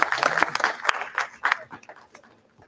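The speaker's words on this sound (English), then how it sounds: "A huge round of applause." An audience claps at a law faculty conference valedictory session, a brief burst of fairly loud applause that thins out and fades within a few seconds.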